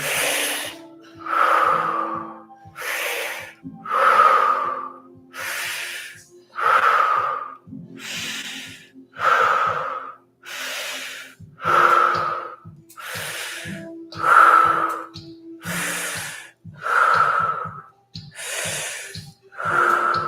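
Deep, steady breathing from a class holding a pose, long inhales and exhales repeating in a slow, even rhythm about every one to two seconds, close and clear with no talking over it.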